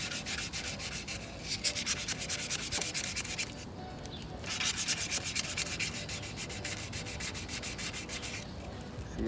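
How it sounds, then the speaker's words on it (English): Hand sanding with 220-grit sandpaper on a Kawasaki Ninja 400 exhaust mid-pipe part, steady rapid back-and-forth rasping strokes close up, with a brief pause midway before resuming. "A nice sanding job looks like this."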